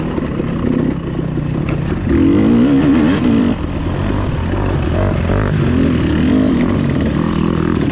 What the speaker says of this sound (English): Moving real good through there. On the 4-stroke thumper.